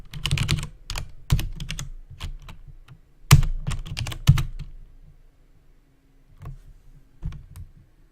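Someone types on a computer keyboard in close, crisp bursts of clicking keys. The bursts are separated by short pauses and thin out into a few scattered taps toward the end.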